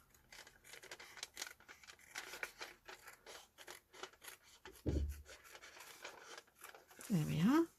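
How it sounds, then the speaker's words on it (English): Scissors trim a small overhanging edge off a printed envelope with a few quick close snips, heard between stretches of talking. "And just trim this edge off as well"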